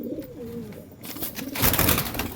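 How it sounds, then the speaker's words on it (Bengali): Close pigeon coos ring out with low, rolling, warbling calls at a moderate level, followed by louder rustling and flapping in the last second. "পায়রা দুটো তোমাদেরকে দেখাই"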